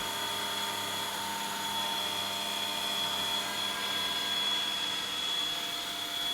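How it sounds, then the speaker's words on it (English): Side milling a high-speed steel blank on a milling machine: a steady, loud continuous whine with a sustained high tone, unbroken throughout with no talking. "now I can side mill this bracket square to the underside of this high-speed steel blank"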